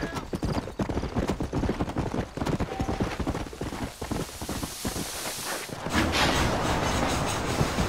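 Horses clip-clop in a quick, steady rhythm while pulling a wagon in Red Dead Redemption, hooves and rolling wheels close and prominent before the clatter gives way to a smoother rumble near the end.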